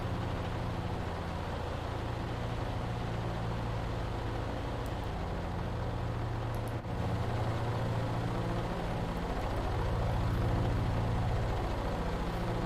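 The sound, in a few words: P-38 Lightning aircraft engine in VR flight simulator game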